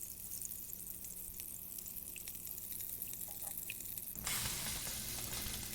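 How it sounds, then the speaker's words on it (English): In the video game Abiotic Factor, a peccary chop cooks with a soft, steady sizzle that suddenly jumps to a loud, bright hiss near the end, with no talking. "that sizzle means our food is done."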